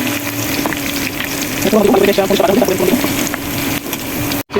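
Dried red chilies frying in hot oil with garlic and onion, a loud close sizzle that stays steady throughout and flares briefly with bubbling crackle partway through.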